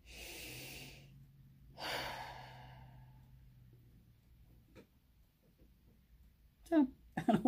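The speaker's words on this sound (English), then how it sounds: "Stop, take a breath." A person draws two audible breaths, a soft one at the start and a stronger inhale around two seconds, over a quiet room; speech comes in briefly at the end.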